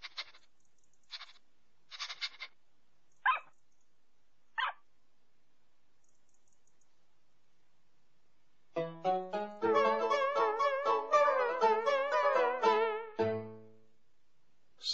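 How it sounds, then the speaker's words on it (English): Several short yaps from a little dog in a children's show, spaced over the first few seconds, followed by a bright melodic musical jingle. "It's little dog Fido."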